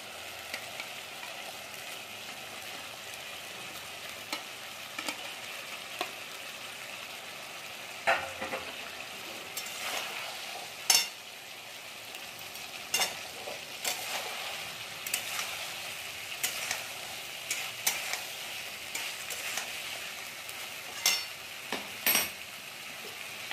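Fried vegetables for shukto sizzle steadily in a pan, with repeated scraping and clinking of a spoon stirring them throughout.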